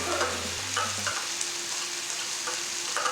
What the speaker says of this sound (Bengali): এটাও ভালো মতো মিশিয়ে নেব।